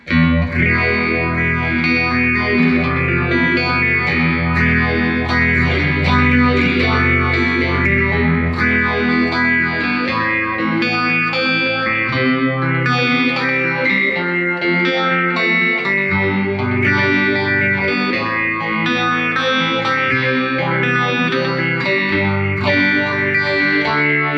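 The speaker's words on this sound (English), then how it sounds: "So this is the phase 90 now in that blue mode." Distorted electric guitar riffs through an MXR Phase 95 pedal in vintage Phase 90 mode, with a sweeping, swirling phaser effect, loud and continuous, playing chords and single notes throughout.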